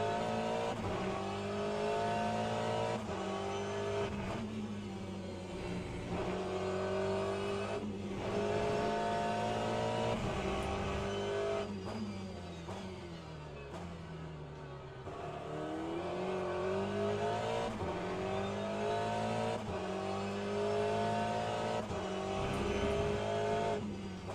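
Race car engine in the sim racing game Le Mans Ultimate, revving hard through upshifts and downshifts with rising and falling pitch sweeps, braking into a hairpin and accelerating out, loud and continuous with no talk.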